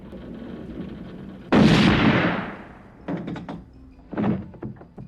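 A single loud gunshot rings out in a gangster film scene as a man is shot, rising abruptly out of low room ambience and decaying over about a second, followed by a few dull knocks and thuds.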